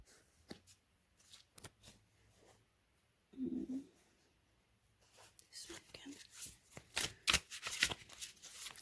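Tarot cards being shuffled close by, quiet at first and then a louder burst of riffling and snapping card sounds, with soft whispered talk now and then.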